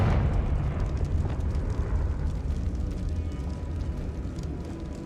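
Confringo fire explosion spell in Hogwarts Legacy erupts as a rolling, rumbling burst of fiery noise that fades slowly across several seconds, dense and low.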